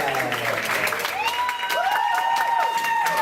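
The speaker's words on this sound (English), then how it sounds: "You're supposed to clap." A theatre audience claps at the start of a fringe performance of Hippolytus, scattered clapping mixed with crowd noise and bright tonal sounds, fairly close and steady.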